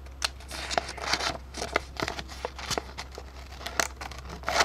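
Scissors snip through paper while a Minecraft-style paper figure is cut out, giving quick, close crisp cuts and rustles in an irregular rhythm, with a faint steady hum underneath.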